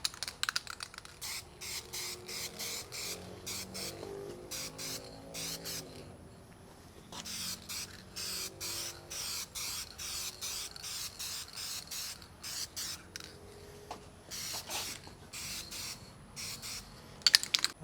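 A rattle can sprays paint in a long run of short, hissing bursts with brief gaps between them. The hiss is close but fairly quiet, with one pause partway through.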